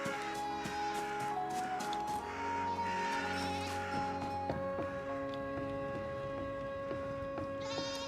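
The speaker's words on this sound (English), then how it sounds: "Do you see a goat?" A goat in the video game REKA bleats several times, wavering nasal cries layered with buzzing insects and a sustained in-game ambient drone, fairly quiet and unaccompanied by talk.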